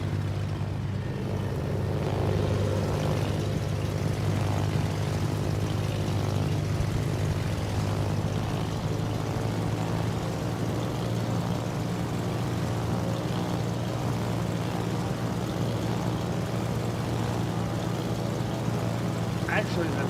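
Propeller bombers drone through a video game, a steady low engine hum with layered harmonic tones that holds evenly for about twenty seconds, with no pause and no swell.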